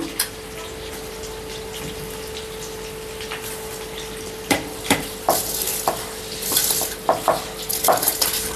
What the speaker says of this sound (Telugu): ఇప్పుడైతే నేను రైస్ వేసుకుంటున్నాను